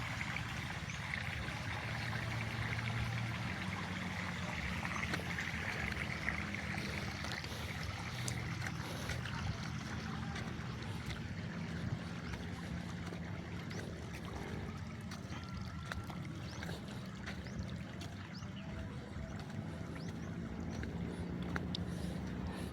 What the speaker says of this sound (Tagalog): Ay na, ang bilis ng tubig.